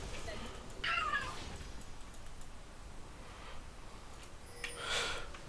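Two drawn-out meows from a house cat in a room where people are playing an online game, faint and set against steady background hiss with low voices nearby.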